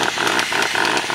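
An impact gun tightening brake bolts during a rear disc brake conversion on a GMT400 Chevy/GMC dually, a loud close rapid hammering rattle in quick bursts.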